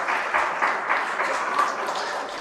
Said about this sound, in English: A big round of applause for Major General Ramesh Chandra Padhi